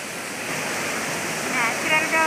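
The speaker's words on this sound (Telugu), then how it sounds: "న్యాచురల్ వాటర్ ఫాల్స్ లాగా బాగా సృష్టించారు." Artificial waterfall at an indoor expo in Vizag, a steady close rushing wash of falling water with faint voices in the background.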